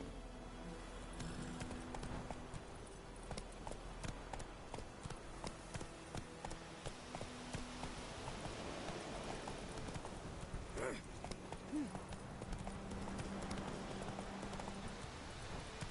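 Horse hooves gallop in a fast, steady clip-clop rhythm in The Witcher 3, the mount running continuously over a low game backdrop throughout.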